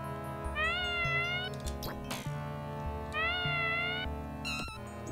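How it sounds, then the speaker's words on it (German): A cartoon cat meows repeatedly in a Smurfs video game, with rising and falling whiny cries over a steady backdrop of game music and no talking. "Azrael ist immer eine tolle Katze gewesen."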